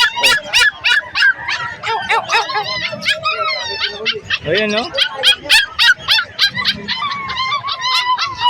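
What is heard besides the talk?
dogs barking and whimpering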